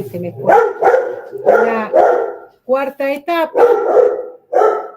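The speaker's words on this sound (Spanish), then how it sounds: "perdonen el ruido de mi perro" Pet dog barks several times nearby, sharp and fairly loud, mixed in with someone speaking Spanish during a lecture.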